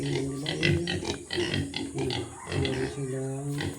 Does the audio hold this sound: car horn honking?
no